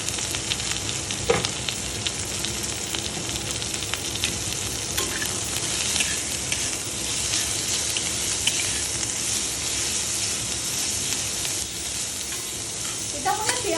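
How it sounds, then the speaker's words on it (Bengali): Onion with turmeric frying in a pan for a small fish dish, a dense, steady sizzle with crackling throughout and occasional stirring scrapes, no talk. "মাছটা মানে একটুখানি ভেজেই তার মধ্যে মাছটা অ্যাড করতে হয়।"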